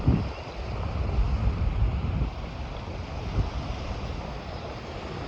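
Water rushing steadily through a roughly two-foot-wide gap broken in a sand dam, a continuous loud outdoor wash with wind buffeting the microphone throughout.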